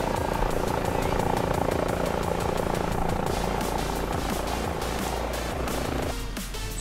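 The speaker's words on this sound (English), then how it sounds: "I'm sure these people wouldn't be too happy with a helicopter flying over their house" Steady, loud rotor and turbine drone of an H145 helicopter in flight in Microsoft Flight Simulator 2020, over Boston on an air ambulance mission, with a rhythmic blade chop running continuously and no talk.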